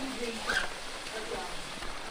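Light rain falling steadily at the Batad rice terraces, a soft continuous patter heard close by without any talking.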